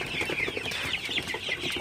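Sonali super hybrid chickens in a poultry shed at night cluck and chatter together, a dense overlapping flock murmur with quick repeated calls, close and continuous with no talk.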